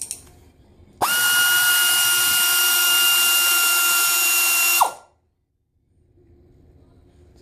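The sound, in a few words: power tool turning out brake caliper screw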